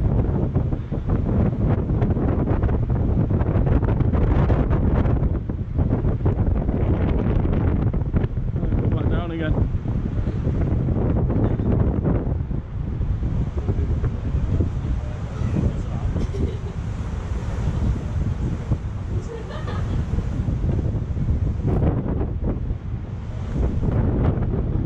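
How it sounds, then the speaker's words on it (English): Strong wind buffeting the microphone at Blackpool Tower, a loud continuous roar and rush with gusting surges throughout, a voice talking briefly under it. "Very windy in this section."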